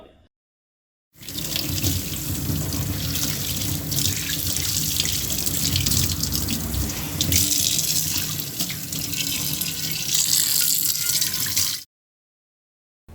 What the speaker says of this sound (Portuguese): A frigideira sendo lavada, tem um som mais metálico da água batendo nessa frigideira.